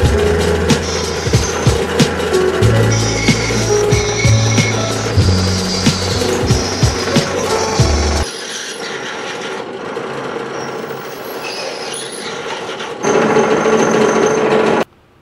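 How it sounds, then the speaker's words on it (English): Holes being drilled in a fabrication setting, with a high-pitched power tool whining steadily and loudly alongside rattling, clattering bursts, then a quieter stretch before the motor runs hard again. "So, this is not how you drill holes."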